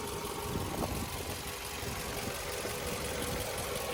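The 2.4-litre engine of a 2003 Toyota Camry idles at a car market, a steady, even mechanical hum with a faint rattle and no voices over it.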